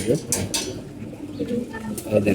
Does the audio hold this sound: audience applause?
no